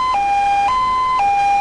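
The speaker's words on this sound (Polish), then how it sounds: "Alarm dla służb medycznych." A medical emergency alarm siren from a video game mod alternates between two steady tones. It switches back and forth about every half second, loud and clean with no voices.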